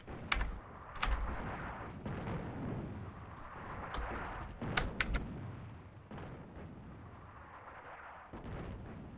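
Artillery booms across a North African battlefield in Attack at Dawn: North Africa, with heavy, deep blasts and sharp cracks arriving irregularly, some close and loud, others rumbling farther off between them.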